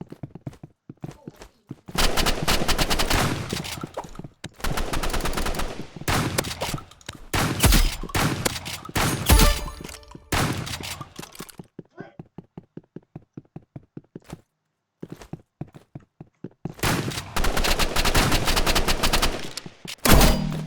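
Rapid bursts of automatic gunfire in the Roblox game Rivals crackle in dense volleys separated by short pauses and scattered single shots, loud and close.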